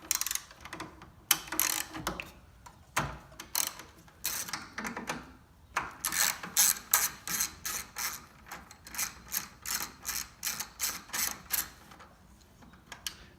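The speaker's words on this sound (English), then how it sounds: "we're going to take our 10mm socket and we're going to remove 2 bolts on the coolant tank" Repeated ratcheting clicks from a 10mm socket wrench loosening the coolant expansion tank bolts on an FK8 Civic Type R, coming in close bursts of rapid pawl clicks with short pauses between strokes.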